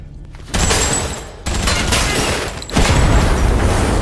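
Loud, continuous bursts of rapid gunfire aimed at vehicles in a film roar close by, rising and swelling in waves with booming impacts under the barrage.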